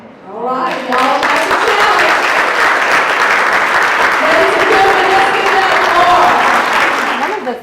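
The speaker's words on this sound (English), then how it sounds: "let's give that applause." Crowd applause at a Bernie Sanders campaign rally in Aiken, South Carolina, a loud, sustained roar of clapping that swells in quickly and holds, with voices and cheering mixed in.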